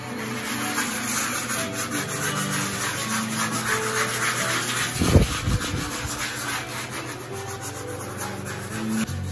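Body filler on a Nissan S13 dashboard mold is sanded by hand in steady, close rubbing strokes, with one sharper scrape partway through.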